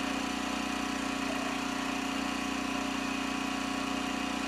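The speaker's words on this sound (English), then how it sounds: "Hopefully you guys can hear me over the generator" A generator hums steadily nearby at an off-grid cabin build site, holding a constant low drone with a strong tonal band throughout, and no one speaks.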